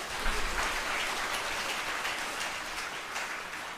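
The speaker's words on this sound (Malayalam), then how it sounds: "അമ്മയ്ക്ക് നന്ദി പറഞ്ഞുകൊണ്ട് കൈയടിച്ചുകൊണ്ട് ശ്രദ്ധിക്കട്ടെ" A church congregation claps together in a sustained, even burst of applause that carries on without a break, dense and fairly loud with no voices over it.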